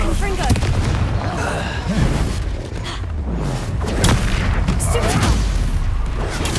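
A booming Expulso blast spell in Hogwarts Legacy, heavy explosive thuds and rumble during combat, loud and close, with a voice shouting over the noise.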